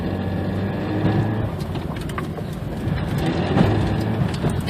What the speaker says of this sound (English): Still got that horrible transmission noise or whatever it is.